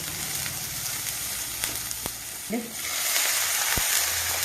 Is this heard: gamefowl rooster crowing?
no